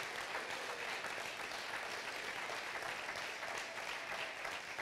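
Steady applause from an audience at a community gathering, many hands clapping in a dense, even wash that holds at a constant level for the whole stretch with no voices breaking through.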